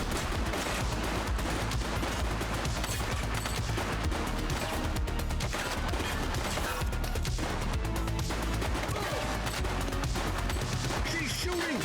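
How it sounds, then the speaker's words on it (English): Dense, continuous gunfire in The Precinct, an Averno City police game, with rapid shots layered into a loud, chaotic firefight that runs for the whole stretch without letting up. "She's shooting!"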